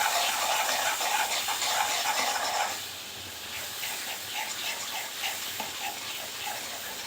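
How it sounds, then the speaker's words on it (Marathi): Puris spiced with ajwain deep-frying in hot oil, a steady broadband sizzle and hiss that is louder for the first few seconds, then settles into a softer bubbling crackle with small irregular pops. "सुरू आहे आपलं पुऱ्या तळण्याचं काम."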